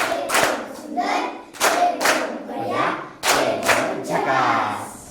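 Schoolchildren clapping together in a classroom, bursts of unison claps in a rough rhythm with voices mixed in and brief pauses between rounds.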